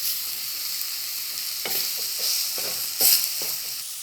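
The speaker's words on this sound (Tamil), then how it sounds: "இப்போ நீங்கள் அடுப்பை கொஞ்சம் ஸ்லிம்மில் போட்டுட்டு இதை நல்லா வதக்கிக்கொள்ளுங்க" Ground roasted masala paste for crab curry fries in a pan over low heat, a steady close sizzle broken by several soft scrapes and knocks as the paste is stirred.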